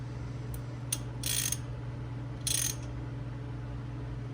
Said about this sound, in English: Once it's tight with your hand, you're just gonna go literally a quarter to a half more with the wrench.